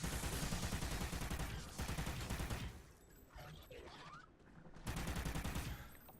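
Rapid automatic gunfire in the video game Call of Duty Ghosts Extinction: loud, close bursts, then a quieter lull, and the firing resumes near the end.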